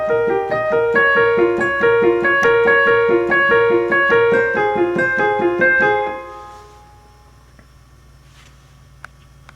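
A piano plays a chord progression as a fast, repeating arpeggiated pattern of broken chords, clear and close, then stops and the last notes fade into near silence.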